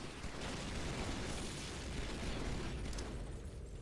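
A video game explosion from the 2003 Halo 2 E3 demo: a loud, sustained, broadband rumbling blast that fills the whole stretch without a break.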